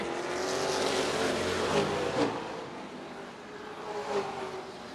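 Late model race cars roar through a turn at Redwood Acres Raceway. Their engines blend into a continuous loud drone that swells and fades slightly as they pass, with a faint tire squeal.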